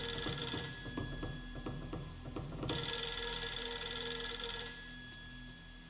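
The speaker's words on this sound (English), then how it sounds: "Or probably just answer that phone first." An old-style telephone rings in the horror video game Fatal Frame 3, a steady electronic ring tone holding on over a low, dark ambient background, with faint soft footsteps-like thuds early on.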